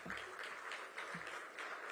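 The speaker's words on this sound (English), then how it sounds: "please rise and give our Honorable Chief Minister a resounding round of applause" Faint, steady applause from an audience at an inauguration event in Ahmedabad as the Chief Minister leaves, a soft continuous patter of clapping heard from a distance.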